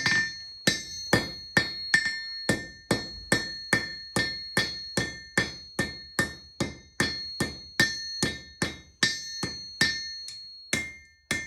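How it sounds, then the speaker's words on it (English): A hammer strikes red-hot iron in a blacksmith shop in a steady rhythm, about thirty ringing blows with a bright anvil-like clang, close and loud. "I'm gonna use a horn handle on the edge of the hammer."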